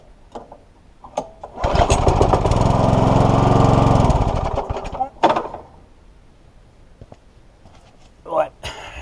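A Hayter Hawk lawn mower engine, bought at auction and suspected of stale fuel or an ignition fault, is pulled and fires up, running loud and close for a few seconds before dying away, with a brief restart and speech around it.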